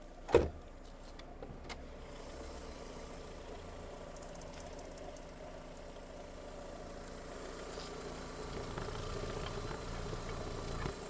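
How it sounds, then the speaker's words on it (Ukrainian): A Volkswagen Golf 1.6 MPI engine idles with a steady, low, even hum, opening with a single sharp click; no voices. "Двигун працює тихенько, чистенько."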